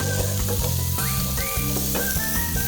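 Garlic and bell peppers sizzle loudly in a hot pan in a kitchen, a dense continuous crackling fry with faint tonal squeaks and stirring scrapes, close and steady throughout.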